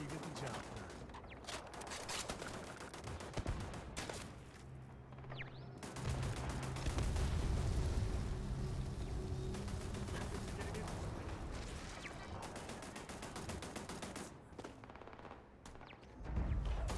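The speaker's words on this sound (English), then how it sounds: "So the turrets will start attacking these guys now." Automated turrets fire at enemies in Starfield, a sustained burst of rapid gunfire that runs loud and dense through most of the stretch, with heavy booming impacts underneath and short pauses near the start and end.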